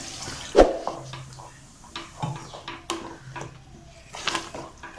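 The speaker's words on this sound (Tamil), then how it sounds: "கொஞ்சமாக தண்ணி ஆட் பண்ணிக்கிறேன்." Water pours and splashes into a pot of masala for mutton gravy in short uneven bursts, with light clinks of metal scattered through the quiet.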